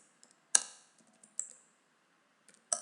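Sparse keystrokes on a computer keyboard while text is entered in Microsoft Publisher: a few crisp, close clicks with pauses between them, one press clearly louder than the rest.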